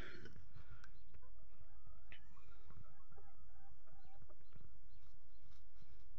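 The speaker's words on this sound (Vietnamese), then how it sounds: "Con gà trống, con trống là con rừng, nguyên gà rừng." Jungle fowl hybrid chickens, crosses of wild jungle fowl, cluck and call in short bursts close by over a constant loud outdoor hiss, with occasional knocks and scuffles.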